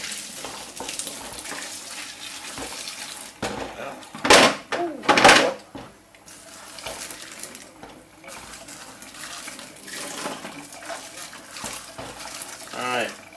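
Boiling water poured from a kettle over the plastic clamshell halves of a Worx drill, a close hissing, splashing rush that swells in two strong bursts amid a steady trickle, with someone talking throughout.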